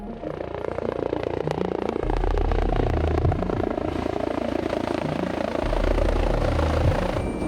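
A loud, steady Rega rescue helicopter drone with a rapid rotor chop, constant and close throughout, during a rescue training exercise.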